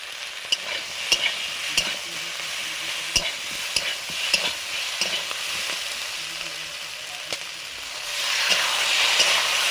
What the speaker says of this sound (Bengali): মশলাও কষা হবে আর সবজিটাও ভাজা হবে।